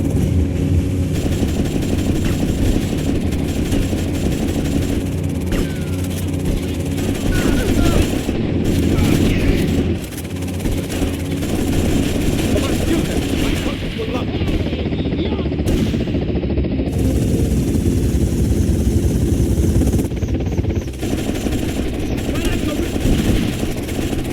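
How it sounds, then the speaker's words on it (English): A helicopter in the video game GTA Vice City drones heavily and continuously, with bursts of rapid gunfire breaking in over it. "they've got a helicopter!"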